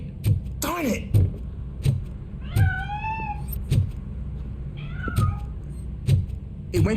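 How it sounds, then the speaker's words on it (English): Cat meowing in the video game RoboCop: Rogue City, two clear rising-and-falling meows close by, set against a steady low rumble and regular thudding footsteps. "That cat must be hiding inside."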